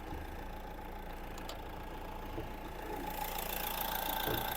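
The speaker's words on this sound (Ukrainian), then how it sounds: "Працює двигун, не димить." A 2013 Renault Megane III with a 1.5 diesel engine idles steadily, a low constant hum with faint knocking, quiet and unbroken throughout.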